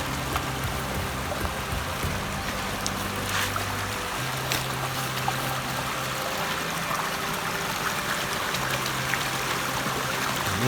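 A mountain stream in the Scottish Highlands flows steadily nearby, a continuous broadband rush and babble of water over rocks with no voices, holding an even level throughout.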